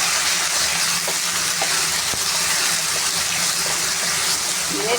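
Onions frying with spices in a pan for a tomato-onion salan hiss and sizzle steadily after a little water is added, a dense bubbling crackle up close with no talking.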